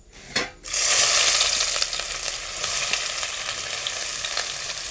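Chopped onion drops into hot oil already popping with mustard seeds, for pav bhaji, setting off a sudden loud sizzle that stays steady and close with faint crackles, no talking.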